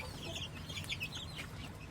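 Chickens cluck steadily in a farm coop setting, several birds overlapping in a continuous, moderately close murmur of short calls with no talking.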